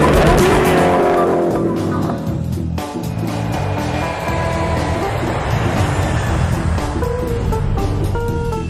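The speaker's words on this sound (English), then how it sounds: "drive their Agera R to the limit on the racetrack and on their own private runway" Koenigsegg Agera R supercar at speed on a racetrack or private runway, its engine a sustained loud roar with shifting pitch and a brief tyre squeal, heard up close throughout.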